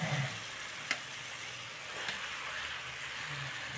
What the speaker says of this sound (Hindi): अब हम इसमें फ्राई किए हुए गोभी और आलू को भी डाल देंगे